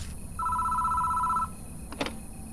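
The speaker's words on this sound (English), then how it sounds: "We can hear a phone ring inside the station before it stops." A telephone rings inside a station in the video game Spirit Hunter: NG: one steady electronic ring, heard at a moderate distance, lasting about a second and then stopping, followed by a brief click.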